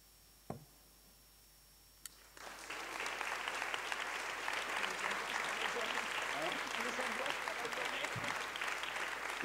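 Audience applause at a French talk show taping breaks out after a couple of isolated knocks, a dense steady wash of clapping from a studio crowd that holds loud and even to the end.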